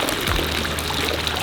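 Hot spring water in Wiesbaden pours in a steady, splashing stream, heard close and continuous for a brief moment with no talk.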